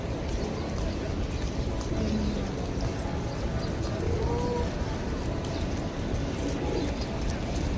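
Pigeons coo amid a dense, loud outdoor crowd ambience at a holy mosque site during pilgrimage in Madinah or Makkah, with the soft coos partly buried under constant murmur and movement.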